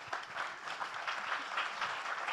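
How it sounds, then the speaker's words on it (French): An audience at an inaugural debate on technological innovation applauds a speaker: a sustained, even patter of many hands clapping, moderately loud and continuous. "On applaudit Sarah."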